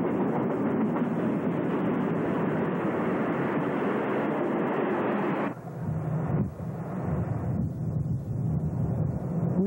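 A CN freight train led by diesel locomotives, including a Grand Trunk unit and hauling trailer cars, passes close by in Ontario with a loud steady rumble and wheel roar that eases and then continues.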